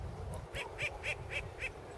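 A short-eared owl (Asio flammeus) calls near its likely nest, giving a rapid series of about five raspy, barking notes in quick, even rhythm, moderately close against faint background noise.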